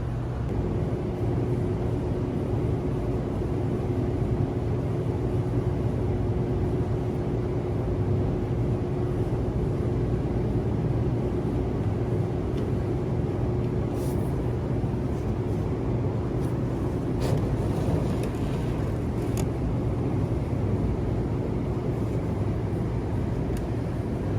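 A turbocharged Harley-Davidson Street Glide with a stock clutch being ridden, a steady low engine drone mixed with wind and road rumble throughout, a few brief higher whines and clicks near the end.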